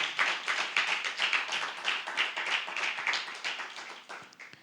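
A church congregation applauds steadily for several seconds during a worship service, dense overlapping claps fading slightly toward the end, with no talking.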